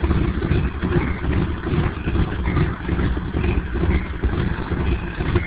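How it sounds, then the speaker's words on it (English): A gasoline truck engine runs leaned out and starved of fuel, a low rough rumble with uneven pulsing and some wind buffeting, close and continuous with no speech. "We're leaning the truck out now, where it's hardly getting any fuel at all."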